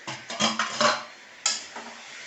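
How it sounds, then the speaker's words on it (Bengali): A cooking pot lid is lifted off while rice cooks at home, giving a few close metallic clanks and scrapes of lid against pot, with a brighter clink midway and softer knocks after. "এখন এই ঢাকনাটা খুলে দিলাম"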